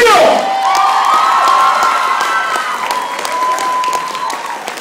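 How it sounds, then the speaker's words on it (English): A crowd applauds and cheers loudly and steadily for several seconds, with whoops and shouts rising over dense clapping. "Y'all make some noise for Mr. DeAndre Hill."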